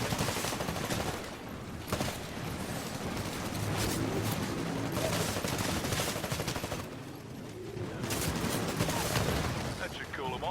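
Rapid automatic gunfire rattles through a Titanfall match in dense, continuous volleys, with bursts swelling and overlapping at steady loudness and no pauses.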